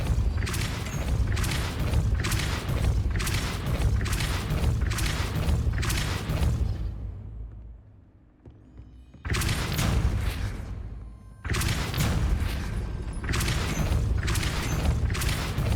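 Repeated Depulso force-push spell blasts from the video game Hogwarts Legacy, a rapid run of loud booming thumps in steady rhythm, broken by a short near-silent gap and a second burst, then more blasts.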